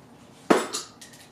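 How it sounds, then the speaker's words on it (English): Screwdrivers being pulled out of a toolbox during Honda CR-V timing belt work, heard as one sharp metallic clatter followed by a couple of lighter clinks, close and brief with no talk. "Now I'm going to get the screwdrivers out."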